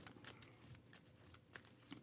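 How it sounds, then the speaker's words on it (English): A deck of game cards being shuffled, soft quick riffling and flicking in short clustered bursts, close and quiet with no talking. "I'm going to shuffle this back up"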